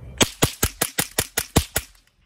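Handgun firing about nine sharp shots in quick, even succession, each a loud close crack with a short decay, then silence.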